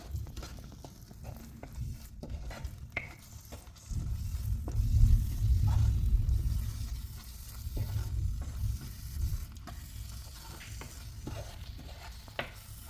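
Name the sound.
stirring puli inji with jaggery in a pan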